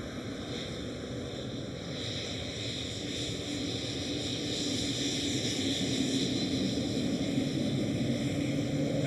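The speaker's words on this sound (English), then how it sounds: "the KLM Cityhopper E195 E2" A KLM Cityhopper Embraer E195-E2 airliner at Amsterdam Schiphol, a faint, distant steady jet roar that slowly swells over several seconds, mixed with wind noise.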